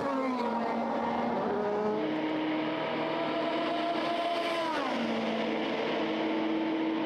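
Le Mans prototype race cars, an Oreca and a Ligier, scream past nose to tail at the 24 Hours of Le Mans, layered engine whines shifting pitch as they pass and drop down the gears, loud and continuous.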